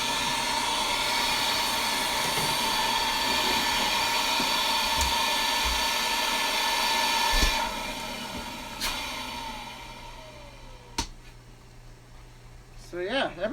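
A Beam central vacuum with a brand new motor runs with a loud, steady rushing whoosh of airflow that shifts and softens partway through, with brief knocks and handling sounds near the end.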